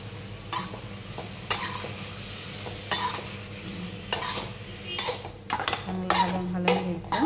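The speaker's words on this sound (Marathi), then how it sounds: "साखर टाकली मी, आणि मग ती परतून घ्यायची।" Sugar stirred and sautéed in a pan: a spoon scrapes and clinks against the metal again and again in an uneven rhythm over a steady low hiss, close and fairly loud, with no talk.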